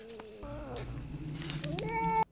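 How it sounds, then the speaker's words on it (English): Cat growling and yowling in the film Pet Sematary, a tense, drawn-out caterwaul that rises and falls in pitch, loud and close, mixed with film soundtrack and voices. "this cat is vicious"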